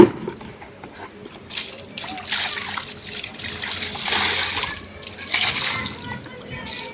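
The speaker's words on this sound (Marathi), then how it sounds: "पाणी घेतलंय, आता इथे टाकूयात आणि धुवून घेऊयात" Water is poured and splashes across a floor to rinse away dust, sloshing and spattering in uneven bursts at close range.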